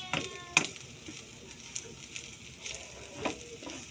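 Rice frying in chorizo oil gives a faint, steady sizzle with a few soft scrapes and stirs, quiet and close.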